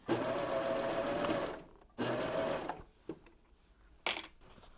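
A serger hums in steady bursts as it sews the gathered skirt of an apron, running about a second at a time with pauses and a few clicks between, close and clear with no talking.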